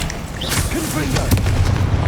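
Confringo fire spell in Hogwarts Legacy, a single punchy blast with a booming burst amid steady background noise, a voice speaking briefly alongside.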